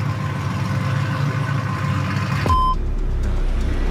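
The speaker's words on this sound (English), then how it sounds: "Okay, this loud truck," A loud truck idles near a research center, its engine rumbling steadily, with a sustained high electronic tone that abruptly cuts off partway through, followed by a heavy low thump and quieter engine noise.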